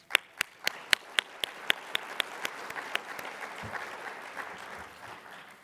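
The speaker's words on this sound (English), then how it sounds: "let's give one more round of applause to all our award winners" Audience applause for award winners at a security and privacy conference ceremony, opening with a dozen sharp, separate claps that merge into a sustained wash of clapping, fairly close and fading at the end.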